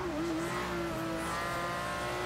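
Car engine in Forza Horizon 2 races at high steady revs for a couple of seconds, a loud continuous whine with tire noise and no talking.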